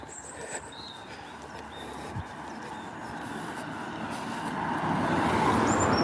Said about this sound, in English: And another car coming.